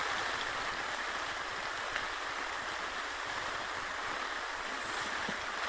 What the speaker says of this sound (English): the first time I've been out in rain like this